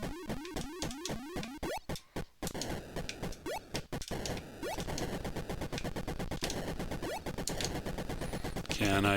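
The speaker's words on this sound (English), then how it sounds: "Now the shots give you a clue as to where they are roughly as well." Rapid electronic blips and zaps from the Atari 2600 Space Invaders game, with alien invaders' shots mixed into dense, continuous chiptune firing and march tones that run loud throughout with no voices.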